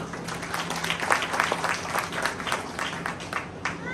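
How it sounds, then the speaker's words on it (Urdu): Loud applause rises from a church congregation during a pastor's sermon, a dense, steady wash of many hands clapping together at close range, with no voices above it. "زوردار تالیاں"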